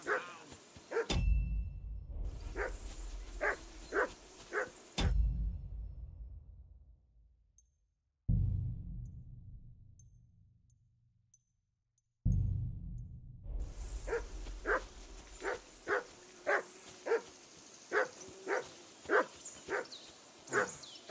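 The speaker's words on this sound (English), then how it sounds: "I assume you can hear that damn dog of yours barking." A dog in the Kingdom Come Deliverance II video game barks in repeated rhythmic bursts, loud and close, broken by stretches of near silence and fading reverberant tails before the barking resumes steadily.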